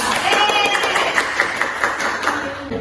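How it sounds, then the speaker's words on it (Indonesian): Classroom of students clapping for a classmate, a brisk patter of many hands with some sharper individual claps and a few voices under it. "Tepuk tangan untuk Isa."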